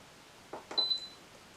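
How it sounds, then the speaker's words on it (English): An Instant Pot sounds a short electronic beep after pressure cook is set, faint and close, following a couple of soft handling clicks in a quiet kitchen. "Now that it is beeped and is going to start coming to pressure"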